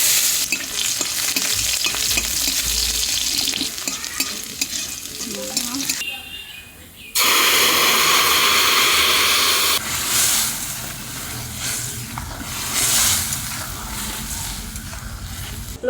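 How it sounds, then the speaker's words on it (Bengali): Spices and dried chillies crackle and sizzle loudly in hot mustard oil for tempering with crushed garlic, a steady frying hiss that surges sharply midway as more goes into the pan, with occasional stirring and no voices. "সম্বরে দেওয়ার জন্য সরষের তেল, শুকনো লঙ্কা, রাঁধুনি,"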